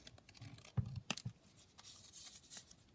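Scissors snip through a paper fold-out piece for a handmade junk journal, a few quick crisp cuts and rustles close by, fairly quiet with light paper handling between them.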